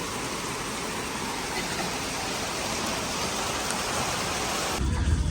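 Steady heavy rain pours down in a continuous, dense wash of noise, close and loud throughout, with a brief change in texture near the end.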